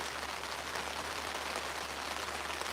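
Steady rain falls on surfaces around a fishing spot near the Arizona-Utah border on a cold day, a dense, even hiss of drops with no pauses and no voices.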